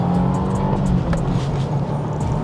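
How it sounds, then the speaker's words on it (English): Engine and intake of a 2025 Subaru WRX tS pulling hard at full throttle from inside the cabin, a loud steady drone rising in pitch, with a faint whooshing intake note and no talking. "So now you only hear the engine, you hear a bit of the intake."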